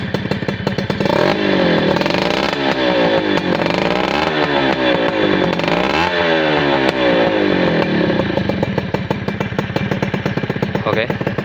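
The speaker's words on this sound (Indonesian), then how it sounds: "knalpotnya nyaring, mantep knalpotnya, seneng aku." A Suzuki Crystal motorcycle engine revs loudly and continuously up close, its sharp exhaust rising and falling through repeated throttle sweeps.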